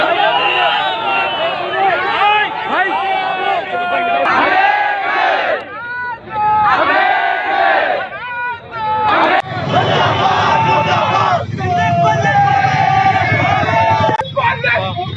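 A large, loud protest crowd at Tolichowki against the CAA, NRC and NPR chants slogans against the central government in rhythmic, roaring waves of massed voices, with brief dips between bursts.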